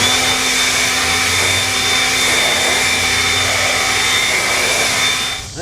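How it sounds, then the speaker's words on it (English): A loud motorized blower roars steadily, close up, as it blows air down onto a 10-frame beehive honey super, with a constant whine and hum before it winds down at the very end. "Then I'm going to take my blower"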